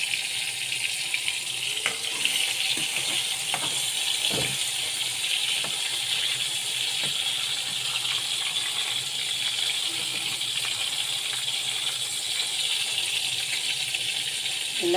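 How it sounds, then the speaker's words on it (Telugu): Tomatoes and tamarind sizzle steadily in a pan for sesame chutney, a constant hiss with occasional soft clicks and taps, moderately close, with no talking. "ఇలా ఫ్రై అవుతూ ఉంటాయి."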